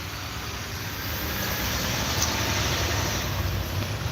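Constant rumbling road traffic nearby, a broad steady wash of passing vehicle noise with no clear breaks.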